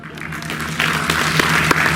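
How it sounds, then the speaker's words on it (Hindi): Audience applause at the Bigg Boss OTT Season 3 launch event, a crowd clapping that swells after a quiet start into dense, sustained clapping with sharp individual claps standing out. "जरा मुंह में फंसाओ और ताली बजाओ एक बार जोरदार।"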